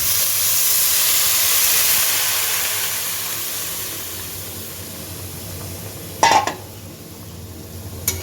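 One bowl of water poured into a pot of cooking masoor dal, a strong steaming hiss that slowly fades, then a sharp metallic clink near the end, close and with no talking.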